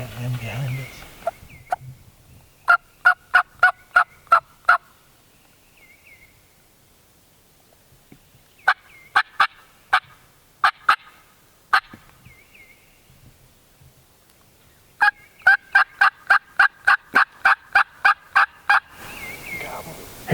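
Rapid bursts of wild turkey gobbling come in several spaced volleys, deep, clear and fairly close, with quiet pauses between them and brief voices at the edges, during a spring hunt on Mississippi public land.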